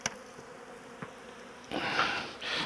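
Honeybees buzz around beehive frames: a faint, thin drone with a few soft clicks, which thickens into a louder, wavering swarm buzz over the second half.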